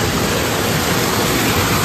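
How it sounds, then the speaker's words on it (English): An indoor waterfall in the middle of a boutique store, a steady broadband rush of falling water that is loud and continuous, with no voices. "Very unique that they decided to put a waterfall here."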